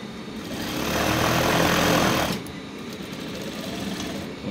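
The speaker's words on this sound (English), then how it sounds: "Then start sewing." A sewing machine stitches a welt pocket on a bomber jacket, giving a steady close mechanical whir that runs louder for about two seconds and then drops to a softer, even hum, with no talking.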